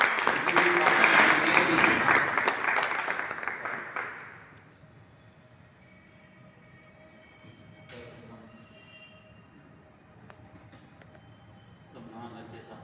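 Loud, dense applause from an audience at a Constitution Day gathering of a journalists' federation at Crown Regency in Aligarh, lasting about four seconds before fading into a quiet room with soft speech and occasional thumps.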